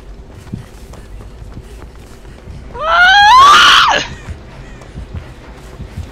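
A loud, rising shriek in a multiplayer survival horror video game cuts in over quiet background noise and lasts about a second before fading.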